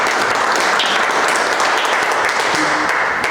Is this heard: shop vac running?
no